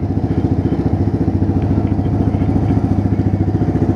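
Honda Grom motorcycle engine running close by, a steady rapid popping putter with an even pulse, loud and continuous.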